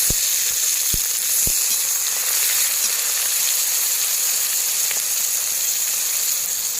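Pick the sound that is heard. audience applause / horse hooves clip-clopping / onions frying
onions frying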